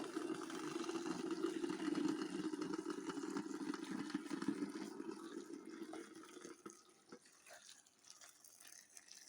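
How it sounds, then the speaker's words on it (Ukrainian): Boiling water poured over washed purslane in a kitchen gives a steady rushing, splashing stream that thins out and fades toward the end, close and moderately loud with no speech. "тепер заливаю кипятком"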